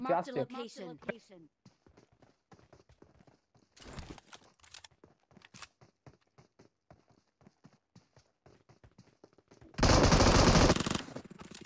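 Uzi and M249 gunfire in a shooter video game: a short burst early on, then a loud sustained burst of automatic fire near the end, with faint clicky steps and scattered taps between.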